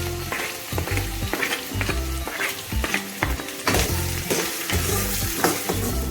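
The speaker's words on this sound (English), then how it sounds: "Now saute them until onion turns pink." Chopped onions and red chilies fry loudly in a pan, a dense hiss of sizzling under frequent rhythmic stirring scrapes that continue throughout.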